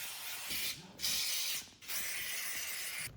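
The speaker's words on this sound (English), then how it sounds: "I'm also going to steam clean the top of the center console and the door panels" A steam cleaner hisses in sharp bursts over the center console and door panels of a C5 Corvette interior, three loud sprays separated by brief silences.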